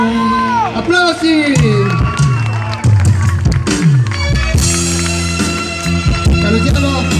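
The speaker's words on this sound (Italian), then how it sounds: "Applausi!" A crowd at a live outdoor pop concert in Porticello cheers, whoops and shouts loudly over lingering music, with a voice heard above the noise and a fresh burst of crowd sound near the end.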